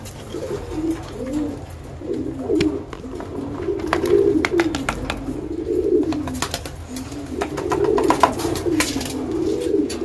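Male pigeons cooing while being fed, a flock of close birds giving continuous rolling, throaty coos that rise and fall over the whole stretch.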